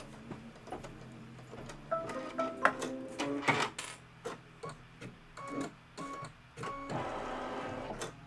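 A sewing machine stitches quilting stitches in quick, uneven runs of rapid mechanical clicking and whirring, with short pauses between bursts, close and fairly quiet.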